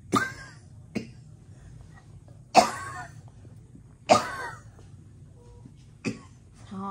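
An elderly man coughs in a hospital setting where a nurse is looking after him: five separate harsh coughs spread out at irregular intervals, close and fairly loud over a quiet room murmur.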